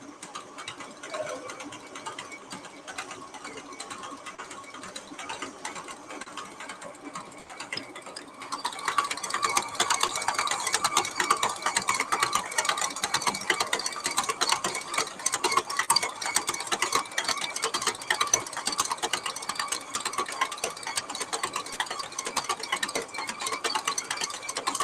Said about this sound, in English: So we're going to mix this on medium for about 2 to 3 minutes until it pulls away from the sides